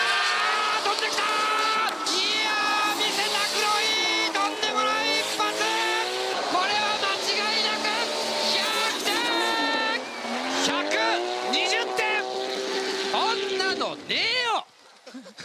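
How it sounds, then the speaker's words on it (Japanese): An RB26-powered Nissan S13 Silvia race car making 580 horsepower screams loudly through high revs with repeated shifts, tire squeal and skidding throughout, fading out at the end amid commentary and crowd noise. "ゼッケン11番の黒井敦史、580馬力を誇るこの S13 RB26 のパワーをさあ、あまりなく見せてほしい。"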